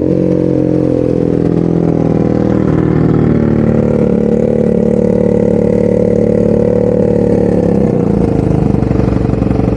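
A BMW R nineT motorcycle idles after a cold start, its boxer twin producing a loud, steady, close low rumble that holds even throughout, with a slight dip and change in tone near the end.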